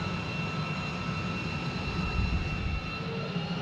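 A fighter jet engine running inside a hover pit, a steady loud roar with a sustained whine, constant throughout with slight swells in intensity.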